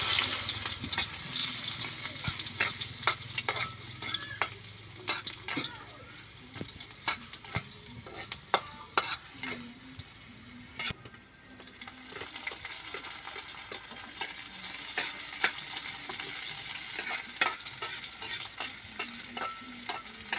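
Crab being sautéed as ginisang alimango in a pan over a wood fire, steady sizzling and frying with repeated scraping stirs throughout, fairly close and continuous, no talking.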